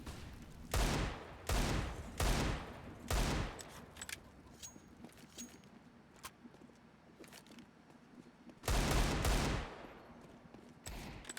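Desert Eagle pistol shots in Counter-Strike, fired through a smoke grenade: four sharp, loud reports in quick succession, a quieter stretch with faint game sounds, then two more shots near the end.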